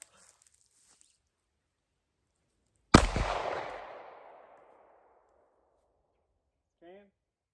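A single sharp revolver shot rings out on a farm, loud with a long decaying echo trailing off over a few seconds in otherwise quiet surroundings, followed by a brief distant voice.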